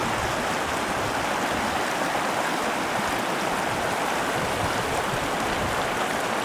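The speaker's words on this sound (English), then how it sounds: "Relaxing by Whitney Creek." Whitney Creek, a mountain stream near Mount Whitney, rushes steadily with dense, constant broadband water noise that stays close and loud throughout, with no voices.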